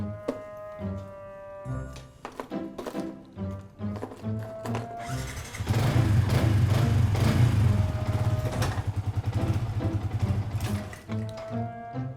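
A manual-clutch motorcycle engine idles with a low throbbing rumble, then revs up loudly for a few seconds before settling back to idle, with mechanical clicks throughout.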